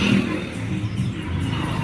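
An auto rickshaw engine rumbles steadily and close by for a brief moment on a village road.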